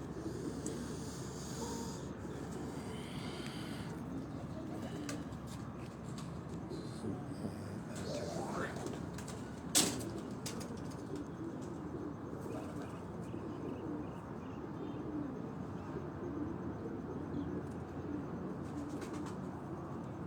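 Missi-breed pigeons coo on a rooftop loft near Rawalpindi and Islamabad, a low murmuring hum that runs continuously over a soft background wash, with one brief sharp click partway through.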